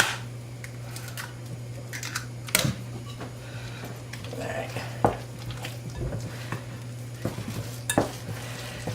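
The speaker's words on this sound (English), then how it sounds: "We want to keep stirring our noodles so they don't stick to the bottom or stick together." Pasta noodles stirred in a pot, with soft scraping and occasional sharp clinks of a utensil against the pot over a steady low hum, sparse and irregular, with no clear talking.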